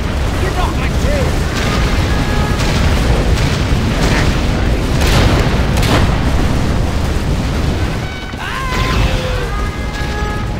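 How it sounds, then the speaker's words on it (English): Rocket barrage explosions in the ShockWave strategy game, a dense, loud, continuous rumble of overlapping blasts and booms, with a brief lull near the end and a few short voice lines mixed in. "Rocket barrage, ready!"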